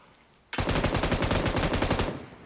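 A sustained burst of rapid automatic gunfire in PUBG Mobile erupts suddenly after a quiet moment, loud and close, with evenly spaced shots continuing for about two seconds before easing off.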